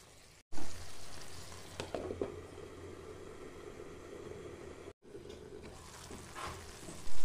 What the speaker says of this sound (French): Je mélange un peu, je couvre ma poêle et je laisse le tout sur feu doux pendant 5